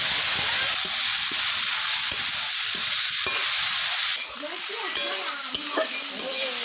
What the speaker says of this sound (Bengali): তেলটা গরম হয়ে গেছে, এবার মাছগুলো দিয়ে দেবো।